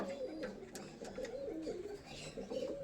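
A new adult pair of Andhra pigeons at a home loft coo softly, the low rolling calls repeating in close succession at fairly close range over quiet background noise.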